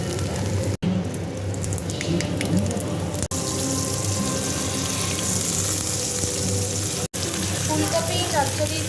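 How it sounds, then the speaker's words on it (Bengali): Eggplant, potato and cauliflower for chachchori fry in a pan, making a continuous, close, watery sizzle and hiss with a few short clicks and stirring sounds. "বেগুন, আলু দিয়ে চচ্চড়ি করছি"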